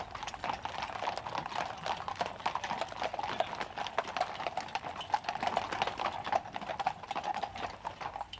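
Hooves of Queen's Lifeguard cavalry horses clip-clopping on a London carriage road, a steady stream of overlapping hoofbeats from several mounts at a sitting trot, moderately near with no voices.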